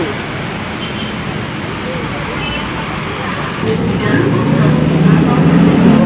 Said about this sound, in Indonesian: ini dia ya busnya. Transjakarta koridor 6Q.